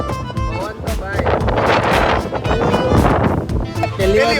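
Strong storm wind roars and buffets the microphone in loud, continuous gusts, with a voice talking underneath.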